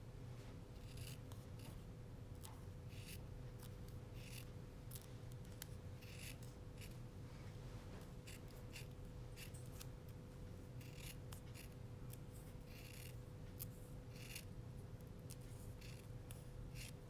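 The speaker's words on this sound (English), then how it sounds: "now we're going to use a pair of scissors to cut up the edge to separate them" Scissors cut steadily through card stock strips for a handmade greeting card, a close, continuous run of crisp snips and rasping slides with a low hum beneath.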